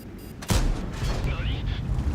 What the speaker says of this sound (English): Fire a shot there just to see what kind of things there are demolishable